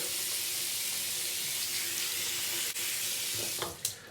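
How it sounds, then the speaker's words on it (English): Running tap water streams steadily with a constant hiss as a shaving brush is rinsed under it, ending with a couple of brief splashes and knocks near the end. "You want to rinse that out under the hot water or warm water thoroughly."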